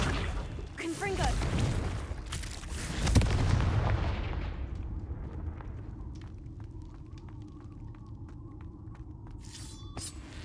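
A Confringo fire spell explodes in the game Hogwarts Legacy: a loud booming blast with a crackling burst, then a fading rumble and scattered small clicks and effects afterward.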